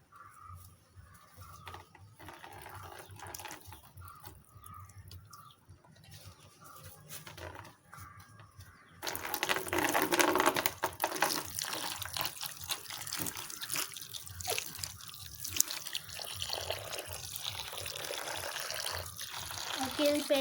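Water poured onto a heap of sodium polyacrylate powder in a small tub to make fake snow: a quieter stretch of faint background noise, then a steady, close gush of pouring water running through the second half.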